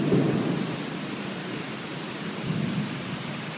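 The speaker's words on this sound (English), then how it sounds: "I think you're going to be able to see how much rain there is." Heavy rain pouring at night outside a house, a dense steady roar with deep rumbling swells, loud and continuous with no voices.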